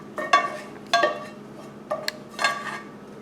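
A spoon clinks and scrapes against a bowl while mixing cooled sausage, mushrooms and onions into quiche filling, four short separate clatters close up with quiet gaps between.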